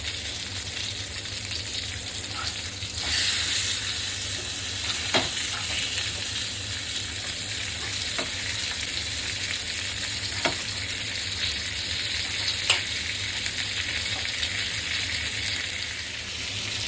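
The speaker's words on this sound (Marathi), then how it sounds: "सात ते आठ मिनटात आपली पीस फ्राय होते जो दोन दोन मिनटांनी पलटी करायची होती" Khadichi macchi fish pieces fry in a pan with a steady, even sizzle and crackle throughout, with a few sharp clicks from flipping.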